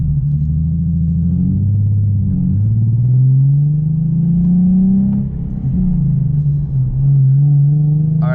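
A Nissan 370Z fitted with a Greddy EVOlution GT exhaust drives with the window down, its deep exhaust drone rising and falling through steady acceleration, close and loud, with a brief voice at the very end.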